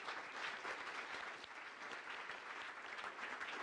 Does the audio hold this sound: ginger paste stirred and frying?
no